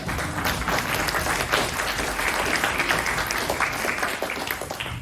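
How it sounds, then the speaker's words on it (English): Steady applause from a room full of people at an annual meeting, a dense continuous patter of clapping throughout. "Please give him a round of applause."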